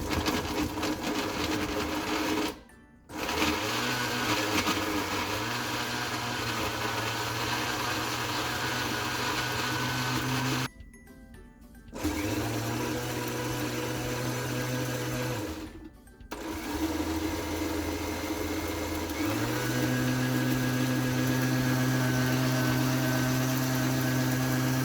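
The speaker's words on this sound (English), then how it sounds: "Now everything is in the blender and I'm going to blend it." A blender runs loudly for a long stretch blending tomato chutney, its motor pitch shifting as it pauses briefly a few times and restarts, growing slightly higher toward the end.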